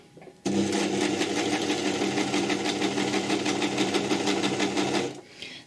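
A sewing machine stitches the side seam of a jersey T-shirt in one steady, fast mechanical whir lasting about five seconds, close and loud, then it stops.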